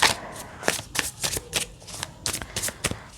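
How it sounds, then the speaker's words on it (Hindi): Tarot cards being shuffled and drawn by hand, a close series of crisp riffling bursts and flicks in an uneven rhythm, heard alone. "मैं यहाँ पे आपके लिए कार्ड्स अब विड्रॉ कर लेती हूँ।"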